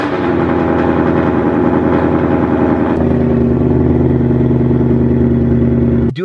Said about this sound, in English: ever since I got my long tube headers installed 2 weeks ago, it made my startups extremely loud